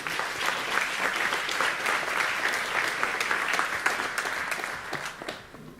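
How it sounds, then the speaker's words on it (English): Warm applause from a conference audience for panel speakers at a circular economy forum, a steady roomful of clapping with slight swells, easing off over the final second. "A big warm hand of applause."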